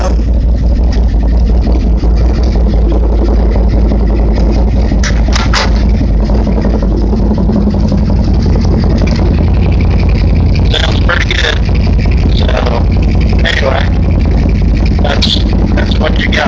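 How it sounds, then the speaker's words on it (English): A 2019 CFMoto ZForce 800 side-by-side fitted with a Two Brothers Racing exhaust runs loud and close, its engine droning steadily with a few short revs rising above the idle. "I'll rev it up here a little bit."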